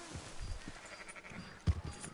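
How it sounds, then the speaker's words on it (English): Merino sheep bleating in the video game Red Dead Redemption 2, a few short calls amid faint farm ambience, with one louder bleat near the end. "Merino sheep."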